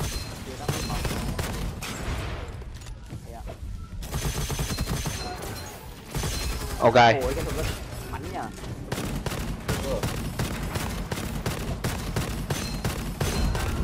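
Rapid bursts of enemy gunfire in the shooter game Gunfire Reborn, with dense volleys and automatic fire crackling almost continuously, and a player's brief voice now and then over the shooting.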